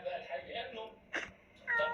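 A cat meows in the Toca video game, two short cries heard close and clear, with a voice talking around them.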